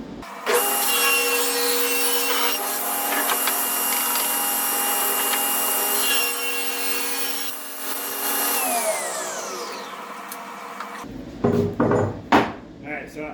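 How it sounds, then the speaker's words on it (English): A power saw trims a wooden charcuterie board, a loud steady whine running continuously for about ten seconds, then spinning down, followed by a few short knocks and handling sounds. "we'll get some trimming over here on the saw"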